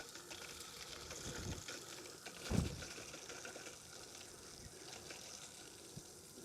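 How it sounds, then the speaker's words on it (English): Hot water tap for an RV's outdoor shower turned on, a faint steady rush of running water with a louder mechanical squeak or clunk partway through as the valve opens, no talking. "Then our last stop is here at the hot tap for the outside shower. Turn it on,"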